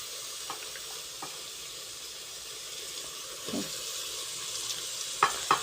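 Mushrooms cooking in a frying pan with turmeric and salt, a steady soft sizzle and hiss with a few sharp clinks of a utensil against the pan near the end.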